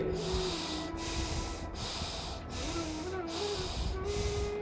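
Slow, deep yoga breaths drawn in and let out, close and steady as a continuous airy hiss with faint rhythmic breaks, and a low tone lingering underneath.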